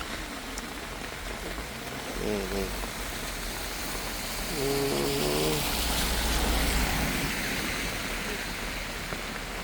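Rain falling steadily on surfaces at an outdoor walking street market, a constant hiss that swells midway, with brief voices talking and faint passing traffic.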